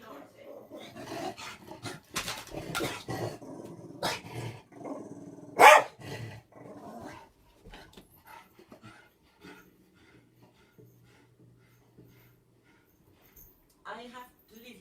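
An angry dog near the door barking and growling at the postman, sharp loud barks mixed with growls and panting, with a person talking and scolding over it before it fades to quieter sounds.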